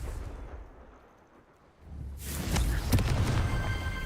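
A Confringo blasting spell detonates in Hogwarts Legacy, a sudden loud explosive burst that swells into a sustained roaring rumble after a brief quiet lull.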